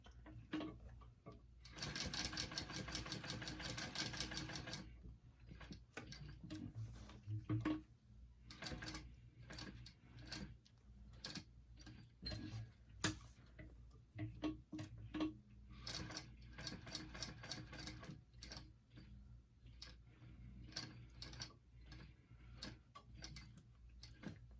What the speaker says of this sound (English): I'm gonna finish sewing this out.